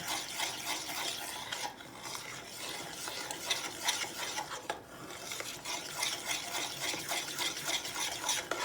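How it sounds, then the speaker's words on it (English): A thick homemade play-dough mixture of flour is stirred and scraped in a pan, a continuous gritty rasping churn with utensil scrapes repeating steadily, fairly close and with no talk. "Now, you really need to keep mixing it."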